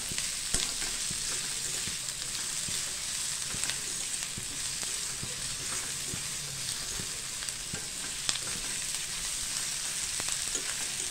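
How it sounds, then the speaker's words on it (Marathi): Chopped onion fries in a pan for a dried bombil (Bombay duck) masala, giving a steady, dense sizzle with small crackles and pops, close and continuous with no voices. "असा आपल्याला कांदा चांगला करपूस लाल होईपर्यंत भाजून घ्यायचा आहे"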